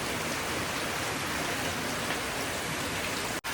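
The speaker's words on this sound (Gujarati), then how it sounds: "હવે અત્યારે વરસાદ થોડોક વધી ગયો છે" Heavy rain pours steadily on the night of the Janmashtami festival, a dense, even hiss of drops close around with wind mixed in, unbroken except for a brief dropout near the end.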